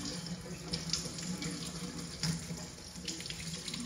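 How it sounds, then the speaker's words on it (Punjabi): Running tap water splashes steadily into a kitchen sink as a tea strainer is rinsed under it, a continuous close hiss and patter with brief louder splashes and no talking. "ਜਾਲੀ ਦੇ ਵਿੱਚ ਦੀ ਕੱਢ ਦੋ ਜਾਲੀ ਧੋ ਲਓ"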